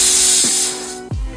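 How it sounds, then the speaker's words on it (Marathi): A pressure cooker on a home kitchen stove lets off its whistle, a brief, loud, steady rush of hissing steam with a couple of low thuds, heard alone. "शिट्टीचा आवाज. इकडे कुकर चालू आहे."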